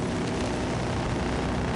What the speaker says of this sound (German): Ich sitze im Heli.